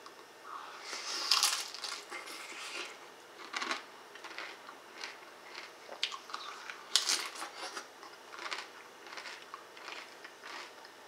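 Someone crunching a tortilla chip dipped in salsa, close, crisp bites followed by irregular chewing crunches that fade and recur, quiet surroundings with no talk.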